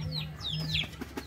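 Shamo gamecock clucking close by in a yard, a quick run of several short, sharp clucks and calls over about a second, with no talking.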